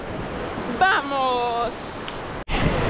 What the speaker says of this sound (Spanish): las olas están impresionantes